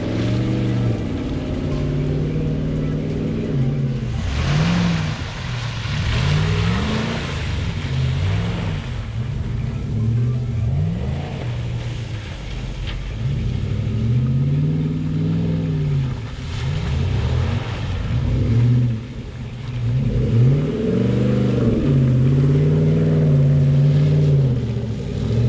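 Pickup truck, a two-wheel-drive Ram 1500, revving hard in mud while trying donuts off-road, its engine roaring continuously with rising and falling surges for the whole stretch, loud and close.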